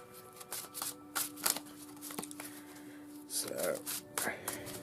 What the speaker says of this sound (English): I'll just give this deck last minute shuffle